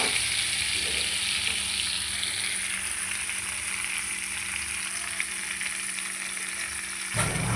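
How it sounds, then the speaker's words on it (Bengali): Fried cauliflower and potato pieces frying again in a wok, a steady broadband sizzle with occasional stirring, constant and fairly close, ending with a brief clatter. "যা যা ফুলকপি আর আলু ভেজেছিলাম তা আবার দিয়ে একটু ভালো করে ভাজবো"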